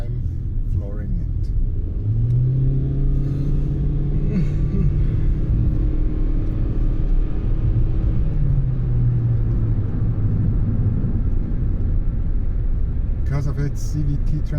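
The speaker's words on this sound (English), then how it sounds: "Okay, now I'm flooring it." Toyota Yaris Hybrid under full throttle with its CVT, a steady loud engine drone holding a near-constant pitch over road rumble, with someone talking over it throughout.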